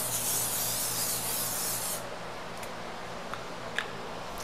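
Silicone mold release sprayed from a can onto the surfaces of a wood and epoxy serving board mold: a steady, close hissing spray for about two seconds, then quiet with a few faint ticks.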